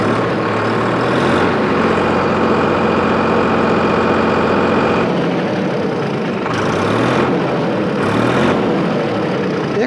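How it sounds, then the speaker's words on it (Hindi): A Solis 4415 44 HP tractor stands in neutral with its engine idling in a steady low chug, then revs up in a couple of rising surges before settling back, loud and close. "अब हम इसका आरपीएम को बढ़ाते हैं और देखते हैं कितना आवाज़ करती है।"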